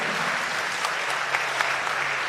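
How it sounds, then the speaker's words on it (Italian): A crowd applauds steadily at a live folk song and music festival in Tonara, many hands clapping together in a continuous, moderately loud wash. "Un bel applauso."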